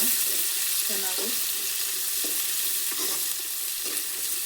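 Chopped onions fry steadily in a pan for avarekalu upma, a continuous close sizzle with a few soft stirring scrapes and no talking.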